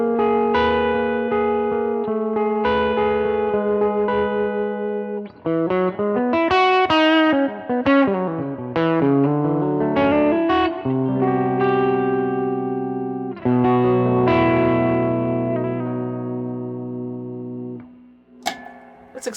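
Jazz guitar played through a Hotlanta Dual Drive overdrive pedal, with chords and melodic runs carrying a warm, slightly driven tone that rings out with some chorus-like shimmer and room reverb, playing continuously without any voices.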